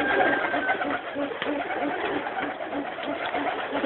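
A yellow pigeon coos in repeated soft, low pulses, close and fairly steady, over a faint background hum.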